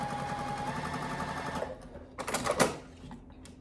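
A sewing machine runs a steady, rapid stitching rattle through quilt pieces for about a second and a half, then stops, followed by a few close handling clicks and rustles.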